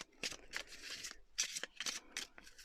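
A tarot card deck is shuffled close up in several quick riffling bursts separated by short pauses, soft papery flutters with no speech over them.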